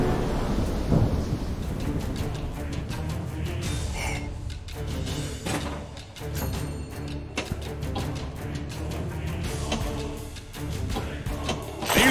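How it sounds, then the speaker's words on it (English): Thunderstorm sound effect from a Williams pinball table in Pinball FX3: rolling thunder and heavy rain fill the whole stretch, loud and continuous with swelling rumbles and no talk. "This will be a raging storm!"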